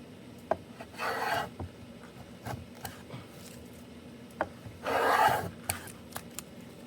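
A restored hand plane shaving wood with tricky grain, two distinct rasping strokes set among scattered small knocks and taps in a quiet workshop.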